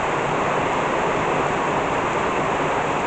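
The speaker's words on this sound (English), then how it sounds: "the sky just opened up completely, and I mean it's pouring out" Heavy rain pours down outside a front porch during a sudden downpour, a loud, steady, unbroken hiss of falling water that fills the whole stretch.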